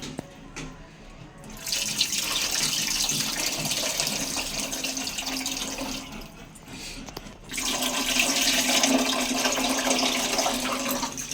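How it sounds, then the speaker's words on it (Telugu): Tamarind juice poured into a fish curry with coconut masala gravy, a steady splashing liquid pour in two long stretches, close up, with a brief pause between them. "ఇప్పుడు ఇందులో చింతపండు రసాన్ని ఇలా రసం తీసుకుని ఇప్పుడు పోసేసుకోవాలి"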